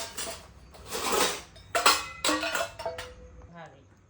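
Metal tiffin containers being set out in a home kitchen for packing mixed vegetable curry, a few clanks and rattles of steel boxes knocked together and placed down, close by, with quiet gaps between.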